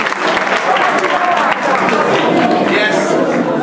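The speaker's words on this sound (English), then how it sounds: "Want to clap for this guy?" High school students applaud a guest during a pep talk, loud close clapping mixed with crowd voices and cheering, with talk running underneath the whole time.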